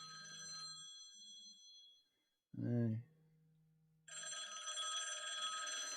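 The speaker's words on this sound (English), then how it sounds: "we've got Johnny Siam on the phone" On a live talk-back radio show, a telephone gives a single short, loud ring for an incoming caller, set between stretches of steady studio background sound.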